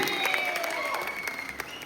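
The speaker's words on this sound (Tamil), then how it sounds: "உங்களுடைய கைத்தட்டல் அதிகமாக எதிர்பார்க்கிறேன்" Audience applause fills the hall as a brief, dense burst of clapping at close range, with crowd murmur mixed in.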